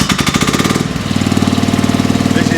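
A mini excavator's engine runs steadily at idle in a warehouse showroom, giving a fast, even knocking chug that starts rougher and louder, then settles into a quieter, regular rhythm.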